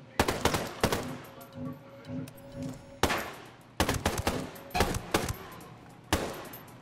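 Gunfire in the video game Ghost Recon: Breakpoint comes as loud, close bursts of rapid shots and single cracks, separated by short pauses with faint background game sound.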